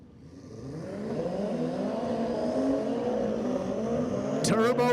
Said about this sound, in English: These two guys on the Busas, the race bikes, they wanted to come out and play today too.